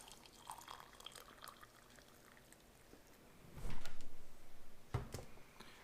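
Boiling water pours into a cup or pouch, a soft splashing trickle that swells briefly in the middle after quiet ticking sounds.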